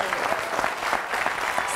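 Studio audience applauding on a French television show set as a guest is welcomed, a dense, steady wash of clapping throughout the short burst.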